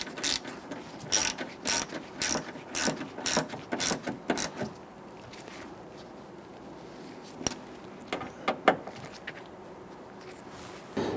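Ratchet clicks in quick bursts as a wrench snugs the bolts of a front door lock actuator on a 2011-2019 Ford Explorer, close and fairly loud, with quieter pauses between the rapid pawl rattles.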